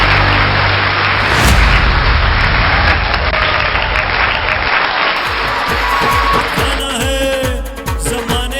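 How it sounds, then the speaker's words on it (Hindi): Loud audience applause at a corporate celebration event as achievers are welcomed on stage, a dense roaring wash of clapping with booming low thumps, shifting near the end into rhythmic music beats. "Please welcome on the stage with a big round of applause."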